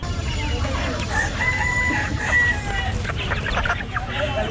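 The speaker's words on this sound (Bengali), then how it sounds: "রায়ের বাজার শহীদ বুদ্ধিজীবী স্মৃতিসৌধের পাশেই সাদেক খান হাঁস মুরগির আড়ত।" Chickens and ducks at a night-time poultry wholesale market in Rayer Bazar, Dhaka, cluck and crow loudly and continuously nearby, with overlapping calls from many birds and a busy crowd background.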